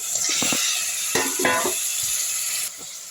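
Chopped tomatoes tipped into a hot, oiled pan for vegetable kurma, setting off a steady bright sizzle, with a few scrapes and clinks of the pan as they hit and get stirred.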